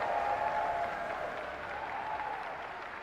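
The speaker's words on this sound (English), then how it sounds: "One more round of applause for Street Fighter 3 Third Strike Top 6." An audience at a Street Fighter 3 Third Strike tournament applauds the top six players, with sustained, dense clapping that starts strong and eases slightly, heard from a distance in a large hall.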